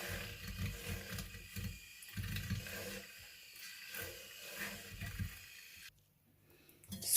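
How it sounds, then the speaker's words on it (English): Mini hand mixer whirring as it blends homemade hand sanitizer in a bowl, a low buzzing motor with a rattling mechanical texture that fades near the end before restarting, faint and alone. "I go ahead to use my mini hand mixer to mix everything really well"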